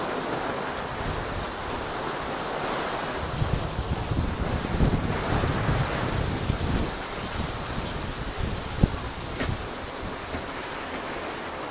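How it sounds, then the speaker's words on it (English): Heavy rain pours outdoors as a thunderstorm builds, a dense continuous hiss mixed with gusting wind, loud and close throughout with no talking. "I better get in before I completely get wet. Drenched in rain."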